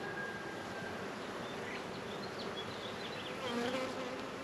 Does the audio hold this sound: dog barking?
no